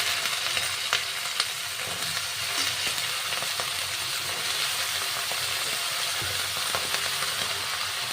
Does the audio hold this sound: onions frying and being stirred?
yes